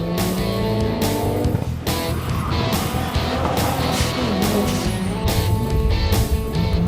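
A Mitsubishi Evo 8 all-wheel drive race car at an autocross event, its engine roaring loud and steady as it revs and shifts, with tires scrubbing and squealing throughout.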